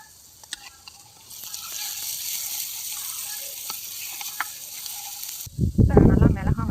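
Ground chili and turmeric paste, stone-ground, frying in oil over sautéed onion and tomato in a village-style dried anchovy thokku, with a steady close sizzle, a few scraping stirs, and a louder burst of frying near the end.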